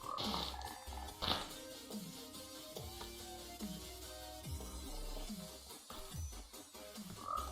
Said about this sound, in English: And now the frogs come to me because of the slime ball.